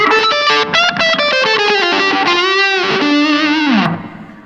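A fuzz-drenched electric guitar through a Mythos Big Puft pedal plays a loud, saturated melodic line with bending notes, then the last note decays and fades out.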